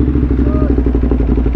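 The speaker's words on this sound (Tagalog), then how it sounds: "si John Mar for his brand new hyper-motored RVE 950. Nice bike" Idling engine of a brand new RVE 950 motorcycle, a steady low rumble running evenly and close throughout, with faint voices in the background.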